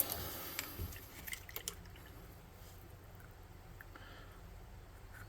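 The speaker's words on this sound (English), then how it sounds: "A little bit of my crummy, dirty paint water." Dirty paint water drips onto a tabletop terrain model being painted, a few small distinct drops and trickles early on, faint and close, then fading to quiet room tone.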